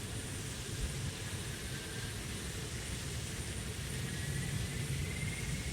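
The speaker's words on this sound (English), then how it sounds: "Engine 3 is spinning up." A C-130 Hercules turboprop engine spooling up in the DCS World flight simulator, a steady droning roar with a faint rising whine, continuous and even throughout with no talk.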